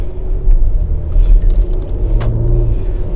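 Porsche Macan S with a 2.9 V6 petrol engine heard from inside while driving, a low, smooth rumble with slight swells in engine tone, steady and moderately loud without speech.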